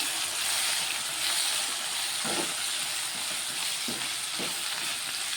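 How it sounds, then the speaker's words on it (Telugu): Capsicum fries in a pan, giving a steady, close sizzle throughout with a few soft stirring scrapes. "క్యాప్సికమ్ అయితే ఫ్రై అవుతుంది"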